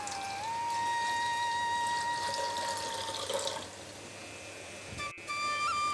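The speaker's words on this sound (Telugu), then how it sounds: "చింతపండు రసం వేసిన తర్వాత దీనికి సరిపడా వాటర్ వేసుకోవాలి." Water pours steadily into a bowl of tamarind juice while rasam is being prepared, a continuous close stream that thins out partway through, with no talking.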